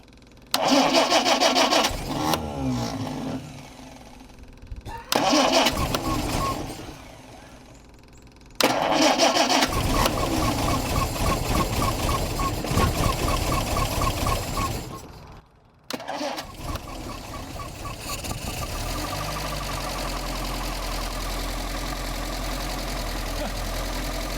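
A 1960 Triumph TR3A with an old fuel pump cranks over several times with the chokes held, stumbling in bursts before catching and settling into a steady, rough idle close by.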